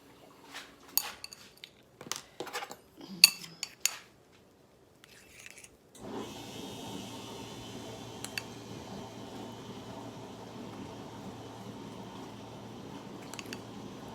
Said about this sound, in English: if y'all hear something, it's my dishwasher.